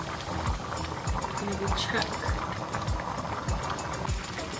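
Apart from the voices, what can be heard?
rice simmering in a pot, bubbles popping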